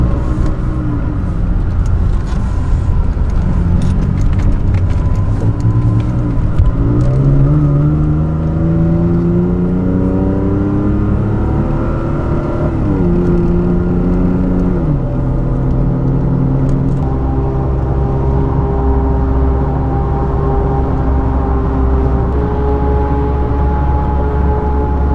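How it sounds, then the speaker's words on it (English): A 2017 Toyota Tacoma fitted with a Magnaflow Overland Series exhaust cruises on the highway, its engine drone rising and shifting through gears, then settling into a steady, fairly quiet hum over road noise. "We'll get on the highway right now."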